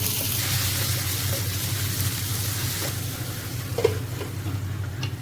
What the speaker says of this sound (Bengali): তেলের মধ্যে রান্না করা চিকেনটা একটু ভেজে নিব